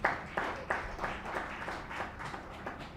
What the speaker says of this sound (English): Please, a round of applause for Ladi-Lak Institute.